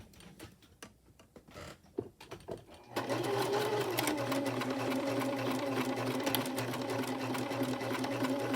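A sewing machine stitching a large tote bag at a 2.5 stitch length: after a few scattered clicks and handling taps, a steady, close whirring run of rapid stitching starts and continues without pause.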